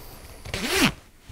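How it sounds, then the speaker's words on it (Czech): A two-way zipper on a military-style jacket is pulled in one quick, close zipping stroke, a bright rasp rising then falling in pitch, with quiet fabric handling before and after. "Bunda je zapínaná na dvoucestný zip"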